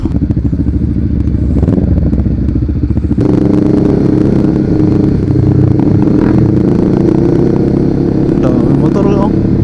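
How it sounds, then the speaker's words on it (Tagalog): Several flashy motorcycles of all kinds ride past in a busy setting, with engines droning loudly and revving throughout and occasional clatter. People talk over the engine noise. "Lahat ng klaseng motor makikita mo rito."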